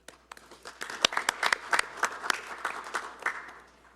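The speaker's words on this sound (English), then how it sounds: "Round of applause, please." An audience at a village board meeting gives a short round of scattered applause, uneven claps building and then thinning out over a few seconds, with no talking.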